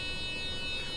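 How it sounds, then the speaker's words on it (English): A bus master alarm in a tourist bus driving game, a steady harsh high-pitched buzzing tone held continuously and loud over a low engine hum. "that horrendous noise you're hearing is the master alarm"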